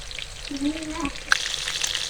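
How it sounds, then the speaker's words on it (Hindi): Raw minced meat patties fry in a pan with a steady soft sizzle, a brief tonal squeak near the start and a sharp tick partway through, close and continuous. "अच्छी सी हमारी टिक्कियाँ फ्राई हो जाए"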